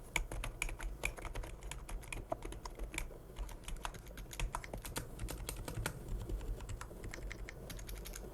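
Steady typing on a North Paladin membrane gaming keyboard with quiet switches, a dense run of soft, muffled keystrokes at close range with no talking.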